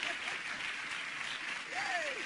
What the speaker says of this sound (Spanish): Que sigan los aplausos, que sigan los aplausos.